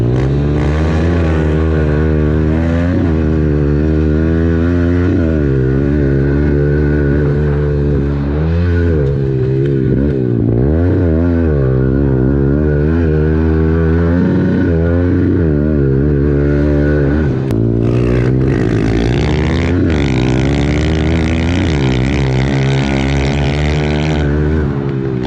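Pit bikes with a new exhaust racing, a loud continuous engine drone with rising and falling revs as the bikes accelerate and shift, close by and dominating throughout.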